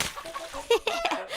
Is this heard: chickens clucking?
yes